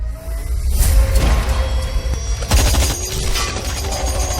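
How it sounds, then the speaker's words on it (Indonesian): Bursts of rapid gunfire crackle and boom in quick succession, loud and chaotic, with clattering mechanical noise between volleys. "terdengar suara tembakan membabi buta"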